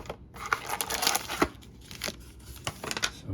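A sealed pack of 2023 Plates and Patches trading cards is cut open with scissors, giving close, crisp snips mixed with crinkling wrapper rustles in short bursts, no talking.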